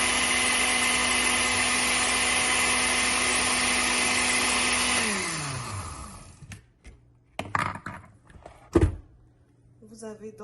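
A blender runs steadily, mixing garlic, leek, ginger, a stock cube and olive oil into a seasoning for baked fish, then winds down and stops after about five seconds, followed by scattered clatter and handling noises.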